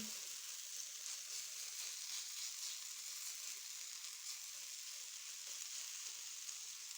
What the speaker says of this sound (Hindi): ये देखें, आलू फ्राई होना शुरू हो चुके हैं।